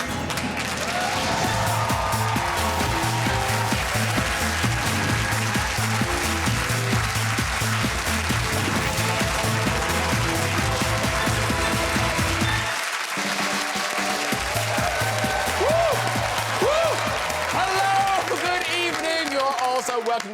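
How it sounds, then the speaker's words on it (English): A talk-show studio audience claps steadily through a loud, continuous music sting with a pounding beat, applause blending into the music from start to end. "Yeah, keep clapping."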